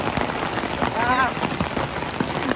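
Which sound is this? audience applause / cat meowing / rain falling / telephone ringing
rain falling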